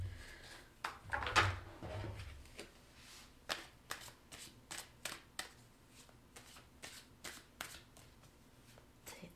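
Tarot cards being shuffled by hand, a burst of riffling near the start followed by a steady series of soft, crisp card slaps and flicks close by, with no talk.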